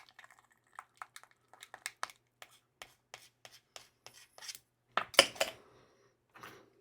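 Stirring briar cleaner in a container for a pipe restoration: a run of light, irregular scraping and tapping strokes, close and fairly quiet, ending in a couple of louder clacks.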